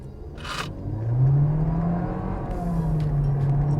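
VW Jetta MK7 fitted with a RaceChip tuning module accelerating hard, a steady engine drone rising in pitch and holding loud throughout, heard from inside the car with no talk.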